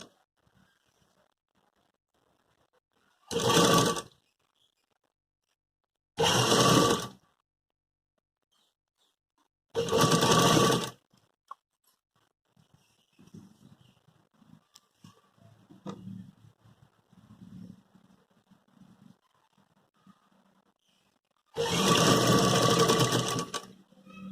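Sewing machine stitching a readymade collar onto a suit in four brief, loud bursts of rapid mechanical whirring, with quiet gaps filled by soft handling and fabric rustle.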